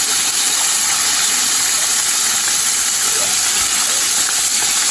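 Chicken steams under a plate on the stove, a steady loud hiss running without break for the whole stretch, with a faint low rumble beneath and no clear talk.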